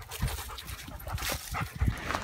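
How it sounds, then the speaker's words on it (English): A dog pants on a walk in the New Forest, rapid breathy huffs close to the microphone with a few low snuffles, fairly quiet against outdoor background noise. "So many dogs to watch out."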